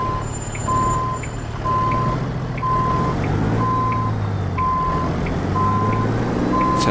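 Reversing beeps sound at a steady regular rhythm as an International 9800i truck backs a hay trailer into a spot in American Truck Simulator, over a constant low diesel engine rumble.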